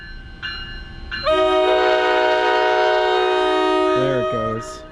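A New Jersey Transit train horn blares long and loud at Middletown station, building as the train nears and passes close by, then fades out.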